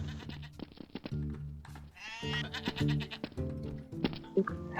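Goat bleats in the video game Garry's Mod, a vampire roleplay server, several wavering cries repeating over a dense layer of game music and sound, fairly close and loud.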